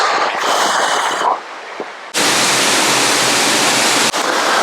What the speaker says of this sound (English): There is a really pleasing view from here over this lovely pond with little waterfall that's running into it.